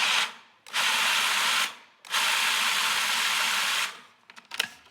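A food processor blade whirs loudly through a falafel mixture in two long sustained bursts with a brief pause between them, then spins down into short stuttering pulses at the end.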